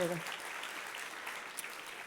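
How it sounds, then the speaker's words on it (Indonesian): A church congregation at an Indonesian worship service claps together in praise, a fairly faint, steady wash of applause heard at a distance after a brief voice at the start. "Tepuk tangannya yang paling meriah buat Yesus Tuhan"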